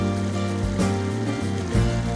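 A waterfall at Curug Tilu in the Lembang area pours steadily into a pool below, making a continuous rushing, churning roar of falling water, loud and close with no voices over it.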